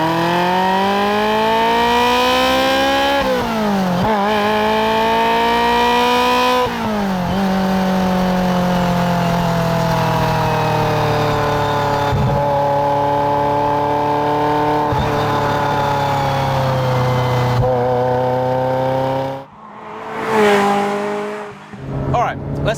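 A 1995 Ferrari F355 Challenge, road-legal, pulls hard through second gear, its engine note climbing steadily in pitch with brief dips at upshifts, loud and close throughout before easing off near the end.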